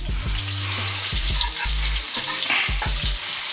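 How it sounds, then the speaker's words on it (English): Pork pieces sizzle steadily in a hot pan after being flipped, a close, dense frying hiss broken by a few low thuds and scrapes, with no talking. "my pork is cooking away nicely"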